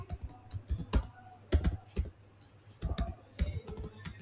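Keystrokes on a computer keyboard while someone types JavaScript code, a close, irregular run of sharp clicks in short bursts with brief pauses between them.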